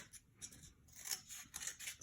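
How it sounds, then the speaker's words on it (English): Scissors snip through a cardboard toilet paper roll to cut it in half, with several short, crisp cuts heard close up in a quiet room. "So I'm gonna take this toilet paper roll and I'm just gonna cut it in half."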